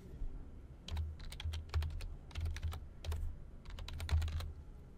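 Rapid keystrokes on a computer keyboard as initials and an email address are entered, coming in short clustered bursts with brief pauses between them, close and clear with no voices.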